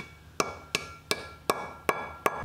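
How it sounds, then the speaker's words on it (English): Six sharp metallic hammer taps seating a wheel bearing seal on a 1985 Pontiac Fiero land at a steady, even pace, close and crisp, each a short ringing strike with quiet gaps between. "the seal was tapped into place with a hammer"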